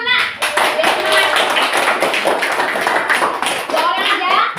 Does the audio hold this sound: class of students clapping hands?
yes